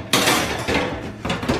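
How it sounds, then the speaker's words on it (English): Metal oven racks clank and scrape in three bursts as they are pulled out of an oven, close and loud, with no talking. "I am gonna just take out my oven racks."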